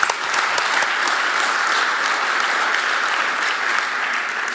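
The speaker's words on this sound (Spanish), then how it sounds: "recibámosla por favor con un cordial aplauso" A Peruvian business forum audience gives a warm welcome, a loud, continuous burst of massed clapping that holds evenly for several seconds.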